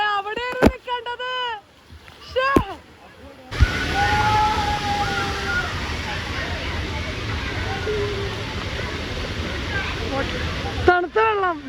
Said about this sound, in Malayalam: ഈ ബക്കറ്റ് നിറയാൻ വേണ്ടി കാത്തേക്കാണ്. ഇപ്പൊ തന്നെ നിറയും.